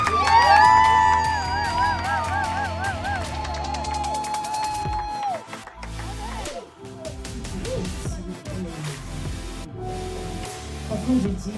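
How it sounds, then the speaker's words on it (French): Wedding guests cheer and whoop as a crowd, with a sustained sung or musical melody at the start giving way to scattered shouts, claps and voices throughout. "Applaudissez pour cet homme-là."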